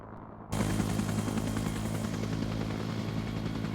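A helicopter in a video game cuts in abruptly after near silence, its loud rotor chop and engine roar sustained steadily for several seconds with no speech.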